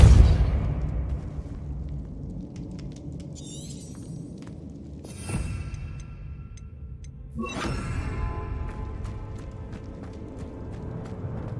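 Two spell blasts from the Hogwarts Legacy video game, Confringo and Depulso, land as loud, sharp bursts a couple of seconds apart, each followed by crackling, ringing debris that fades into a quiet, hollow ambience.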